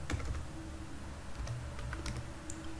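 Fingers tap quickly on a computer keyboard, a soft, close run of uneven key clicks with brief pauses, quiet and alone without talk.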